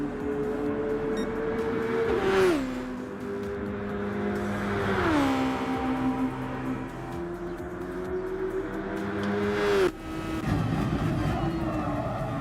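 A race car engine in the Gran Turismo Sport video game revs up and down through repeated gear shifts, rising pitch sweeps broken by sharp drops, loud and continuous for about twelve seconds.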